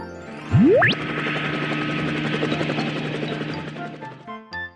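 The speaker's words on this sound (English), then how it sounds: "A helicopter goes wop, wop, wop" A helicopter's steady rotor drone with whirring engine tones, preceded by a rising whistle, holding at a constant moderate level throughout.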